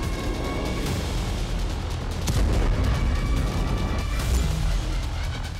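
Rocket and missile strikes between Hezbollah and Israel in Lebanon, heard as a dense, continuous roar of blasts and rumbling booms with sharper cracks, loud and sustained with no talk.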